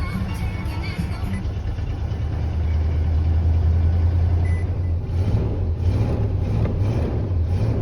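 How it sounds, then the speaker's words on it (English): A car engine idles after a cold start in snow, a steady low rumble heard close by, with a faint high whine from a power steering pump low on fluid. "See if it idles. Yeah, like a champ."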